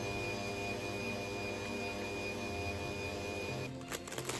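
Electric mixer whisking boiled condensed milk into cake batter, a steady, loud motor whine with a faint change in pitch, then a brief rattle of the beaters near the end.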